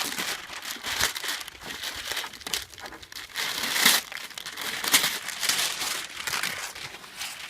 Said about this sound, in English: immediately get rid of all your tape and paper